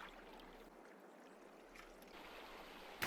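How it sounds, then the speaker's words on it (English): A player's character silent-peeks into and out of water in Counter-Strike 2, giving a faint, low, continuous sloshing and swishing of water movement that swells slightly toward the end. "Silent peeking in and out of water, however, will make a sound."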